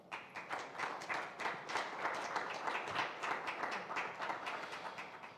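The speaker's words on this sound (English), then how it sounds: "it's worth a big round of applause from the floor here for" Applause rises from the floor at a DTM motor racing press conference: a fairly quiet crowd claps with a brisk patter of overlapping hand claps that runs steadily for several seconds.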